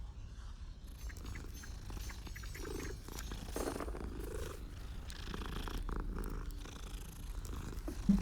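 Cat purring in Hogwarts Legacy: a low, continuous rumbling purr with a gentle pulsing rhythm, close and soft, with a faint extra noise near the end and no speech.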